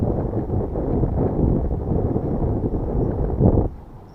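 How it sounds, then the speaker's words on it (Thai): Strong wind during a fishing trip buffets the microphone in continuous low, rumbling gusts that swell and ease, then drop away abruptly near the end. "ลมแรงมากครับ"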